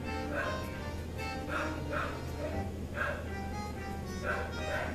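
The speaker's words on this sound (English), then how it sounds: "That's the neighbor's dog." A neighbour's dog barks repeatedly in the background, a series of yips and bow-wows spaced through the clip over a steady low hum and faint talk.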